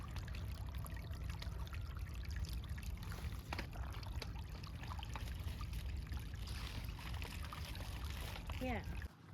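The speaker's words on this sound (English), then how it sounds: "Got some water going on here." Water trickling along a forest trail in Algonquin Park, a steady low burble with a brief bird call near the end.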